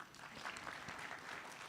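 Graduates applaud at the Kenya Water Institute graduation ceremony, a dense, steady wash of many hands clapping throughout, fairly distant and even in level, with no talk over it.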